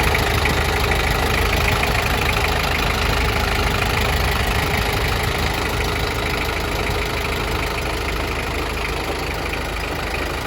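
A Toyota 7FD25 diesel forklift with an automatic transmission idles at a steady, unbroken drone, loud and close throughout with no talking.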